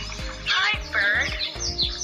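A bird gives a quick series of several short, bright chirps, close and clear, spaced evenly across about two seconds.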